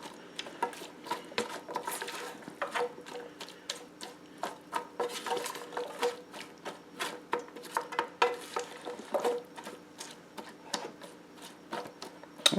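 Cabbage is tossed and stirred in the basket of a Cosori Dual Blaze air fryer, giving a busy sequence of light clicks, taps and rustling scrapes at close range. The ticking runs unevenly for several seconds, and nobody speaks.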